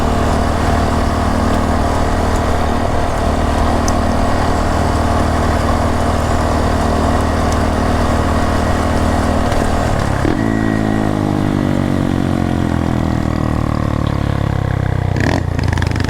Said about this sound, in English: That'll give you a idea of what the bike is sounding like under different varying throttle conditions.